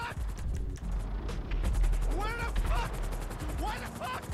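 Scattered gunshots go off amid chaotic action in GTA V, a series of sharp irregular reports mixed with crashing and mechanical noise, while a voice talks over parts of it.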